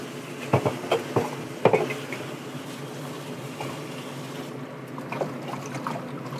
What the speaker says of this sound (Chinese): 咁我要洗一洗佢啦，沖一沖佢啊，咁啊乾淨啲。